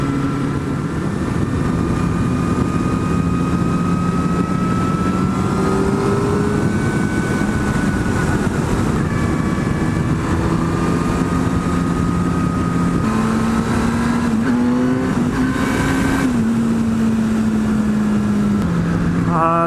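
Kawasaki ZX-10R motorcycle engine heard while riding, a steady droning hum whose pitch rises and falls through gear changes, loud and continuous with wind noise throughout.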